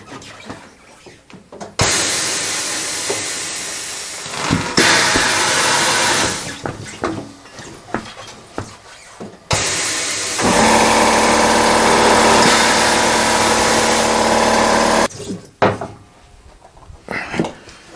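Weaver W-894XS tire changer removing a stuck tire, loud motor whirring in two long stretches of several seconds each, with clanks, knocks and shuffling between them.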